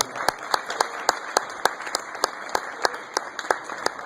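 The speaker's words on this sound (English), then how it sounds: "if you have a clap in you for Mr. Ford, I appreciate it" A crowd at a hip hop panel gives a round of applause, with one close, sharp clapper beating a steady rhythm over the softer, denser clapping of the audience around.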